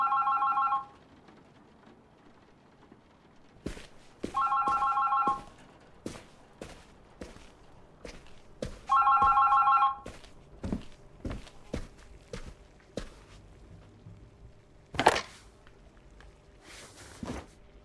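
A telephone rings three times in bursts of a shrill electronic trill, each about a second long with pauses between, while sharp clicks, knocks and footsteps sound around it in a quiet room.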